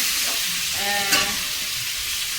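Pumpkin pieces frying in oil in a pan, a steady close sizzle with a brief stirring clatter partway through, no speech.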